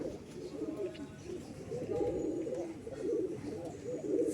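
Low, rolling coos of a Madrasi pigeon repeat continuously at close range, layered over a soft background murmur.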